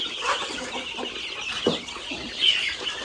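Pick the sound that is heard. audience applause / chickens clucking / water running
chickens clucking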